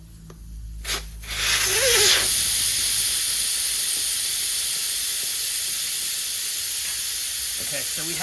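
Air hissing steadily out of a tractor tire's open valve stem, a loud, even broadband rush that starts after a brief clunk and holds for several seconds close by, with a voice briefly audible at the start.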